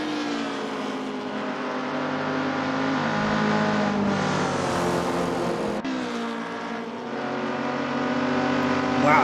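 A Ford Mustang saloon race car in Assetto Corsa, racing in the British Saloon Car Championship, roars loudly and continuously under acceleration, its engine pitch climbing steadily, dropping with a gear change, then rising again.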